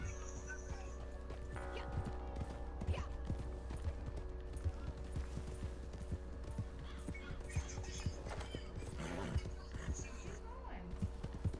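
Rapid clip-clop of horse hooves in a video game over a low, steady hum, the hoofbeats irregular and moderately close.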